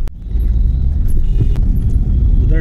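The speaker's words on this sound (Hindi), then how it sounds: "अब इधर आके ट्रैफिक में ट्रैफिक ही ट्रैफिक है" Busy Mumbai road traffic, with cars and motor vehicles rumbling past at close range in a steady, continuous low roar, and a few brief clicks and a sharp knock standing out above it.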